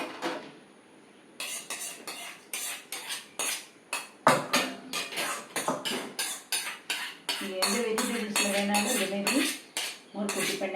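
Hot tempering tipped from a small pan into cucumber mor kootu, giving a dense run of loud clattering metal-on-metal scrapes and knocks, with a sizzle building toward the end.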